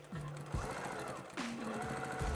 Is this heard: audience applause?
no